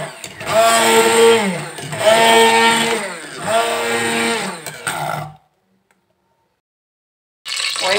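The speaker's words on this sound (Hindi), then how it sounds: "मैंने 3 दरमियाने साइज़ की प्याज ली है, 1 बड़ा अदद टमाटर लिया है और ये मैं इसको पीसने लगी" A kitchen blender grinds three medium onions and a large tomato in three loud, pulsing whirring bursts, then cuts off into silence before a brief restart.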